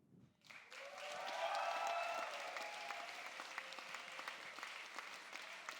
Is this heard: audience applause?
yes